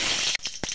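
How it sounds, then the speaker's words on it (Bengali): Cumin seeds hitting hot oil give a burst of dense crackling sizzle, then a couple of sharp pops, close and brief. "পরিমাণ মতো তেল দিয়ে দেব। সাদা জিরা দিয়ে দেব,"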